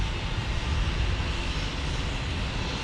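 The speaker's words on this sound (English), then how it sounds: "American Airlines here taxiing out on an" American Airlines Airbus A321 taxiing out at San Diego airport, a steady broad jet engine roar with low rumble, constant and sustained throughout at moderate distance.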